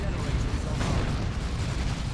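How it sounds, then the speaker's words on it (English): Side cannons fire on a Predator tank in a Dawn of War 2: Retribution 3v3 multiplayer battle, a dense, continuous rumble of heavy booms and blasts. "Those side cannons, look at the damage those side cannons are doing to this Predator."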